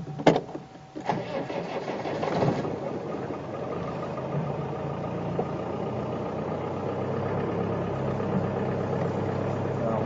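A car engine cranks briefly with a few sharp clicks, catches, and settles into a steady, fairly loud idle that drones on evenly to the end, with no one speaking.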